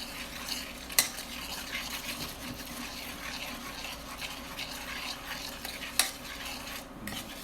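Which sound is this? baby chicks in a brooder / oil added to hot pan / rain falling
oil added to hot pan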